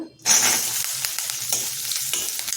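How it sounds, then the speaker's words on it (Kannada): Onion, garlic, curry leaves and tomato hit hot oil for a chutney, bursting into a loud sizzle that stays steady with scattered crackles and stirring scrapes close by. "ಇದನ್ನು ಒಂದೊಂದೇ ಹಾಕಿ ಹುರ್ಕೊಳ್ಳೋಣ ಈಗ"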